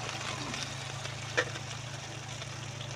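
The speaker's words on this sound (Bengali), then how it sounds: "এরপরে আমি পেঁয়াজ কুচিটা দিয়ে দিলাম।" Chopped onion frying in a pan while a sea fish dish is cooked, a steady soft sizzle with a low hum beneath and one brief clatter midway.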